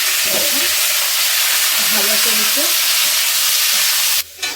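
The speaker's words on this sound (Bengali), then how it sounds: "ঘিটা দিয়ে আমি এই যে এঁচোড়গুলো আমি ভেজে নেবো। এঁচোড় আর আলু একসঙ্গে আমি ভেজে নেবো" Jackfruit and potato pieces fry in ghee in a pan, giving a continuous close sizzle and hiss with stirring scrapes, under a brief spoken remark, before a short break near the end.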